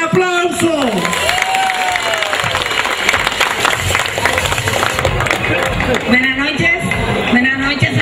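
Applause and crowd noise at a community organization's evening ceremony in honor of a woman from New Jersey, sustained clapping with cheering under an amplified announcer's voice.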